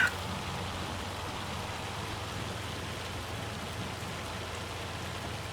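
Hail pours down steadily in the Farming Simulator farming game, a dense, even hiss of countless small impacts that holds at a constant moderate level throughout, with no voices over it.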